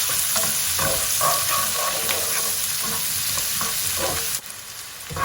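Green pepper frying on high heat in a pan, a loud, dense, steady sizzle with stirring scrapes throughout that drops suddenly quieter near the end.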